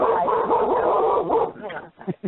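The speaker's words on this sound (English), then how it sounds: "Of course, you can hear my dog." A pet dog yips and whimpers close by, its short high calls mixing with and following a person talking on a radio show.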